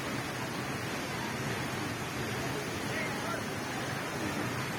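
A broad, steady rush of falling water from a waterfall in a forested area beside a highway, loud and continuous throughout, with some wind buffeting the microphone.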